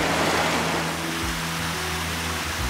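Butzerbach waterfalls in the Eifel pour continuously, a dense, loud, even rush of falling water with no pauses and no talking.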